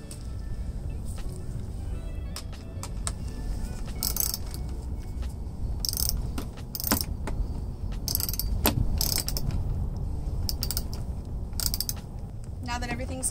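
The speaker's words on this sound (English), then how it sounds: "You'll need to tighten the nut with a ratchet while holding the bolt with a wrench." A ratchet tightens a nut on a bolt under the lid of a DIY handwashing station soap dispenser, giving repeated clicking bursts over a steady, busy background throughout.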